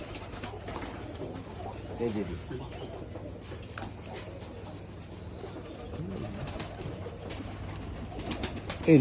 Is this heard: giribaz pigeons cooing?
yes